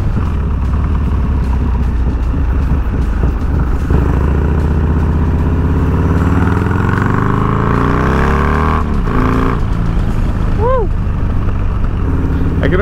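A Harley-Davidson Dyna with a 124ci engine accelerates hard on the road, its loud deep engine rising steadily in pitch with heavy wind rush over the throughout, while a rider speaks over the roar.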